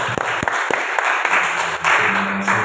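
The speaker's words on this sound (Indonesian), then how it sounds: "Tepuk tangan sekali lagi ya." Audience applause for a group of teachers at a school learning session, a short burst of many hands clapping with a few sharp individual claps standing out, mixed with some murmur of a crowd.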